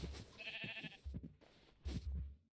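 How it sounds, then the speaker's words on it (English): Sheep in modded Minecraft give a few short, wavering bleats, fairly quiet, separated by soft thudding footsteps and clicks, with no one talking. "We've got sheep in."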